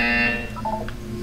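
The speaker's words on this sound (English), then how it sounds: "You will hear a buzzer. When you hear the buzzer, look up at the ceiling." Electronic buzzer tone in the video game Portal 2, a bright harmonic buzz sounding loudly at the start, then fading into a few short wavering blips within about a second.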